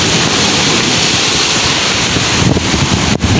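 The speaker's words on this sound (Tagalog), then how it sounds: "Ang lalaki po ng alon." Big ocean waves crash in a loud, continuous roar of surf on a shore, with wind buffeting the microphone and a brief dip near the end.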